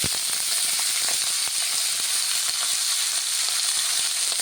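Oil sizzling in a kadai (wok) as goat offal goes in to cook, a loud, dense, steady crackling hiss with scattered pops throughout, close by and without talk.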